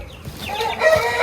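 A rooster crows loudly and close, one rising, strained call with clucking overtones at a poultry keeper's yard, heard alone without speech.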